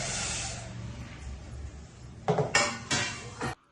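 Metal pots and a pressure cooker clank and scrape in a few quick knocks near the end, after a soft hiss, as toor dal is set to boil.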